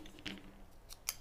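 Scissors snipping crepe paper to make a fringe, a few faint crisp cuts spaced apart in a quiet room, the last snip sharpest.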